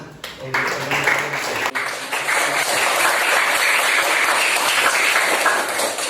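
Classroom applause fills the room, a dense, steady wash of many hands clapping at close range that starts abruptly and holds at full loudness throughout, with a brief voice near the start.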